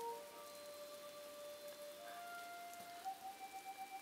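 Rain falls steadily as a faint, even patter, with thin sustained whistle-like tones drifting over it.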